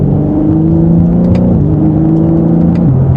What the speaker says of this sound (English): let's give it one last acceleration as we merge into traffic here.